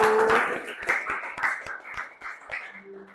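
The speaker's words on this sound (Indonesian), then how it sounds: "Kita beri tepuk tangan untuk kelompok satu" A small audience in a classroom claps for a student presentation group, giving about a dozen sharp, separate claps in a loose rhythm over a few seconds, with faint voices underneath.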